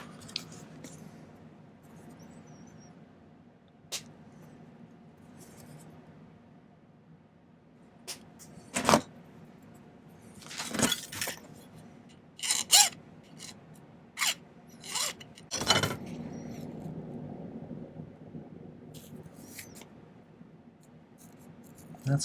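Square silver wire is cut for a pendant at a silversmith's bench: scattered sharp snips and clicks with faint rasping and handling noises between them, in an otherwise quiet room.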